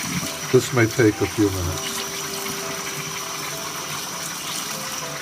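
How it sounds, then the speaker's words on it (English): Cold tap water runs over rice being rinsed in a bowl. A person speaks briefly at the start, then the water settles into a steady, moderate splashing stream that continues on its own. "Empty rice into a bowl and rinse under cold water until the water is clear."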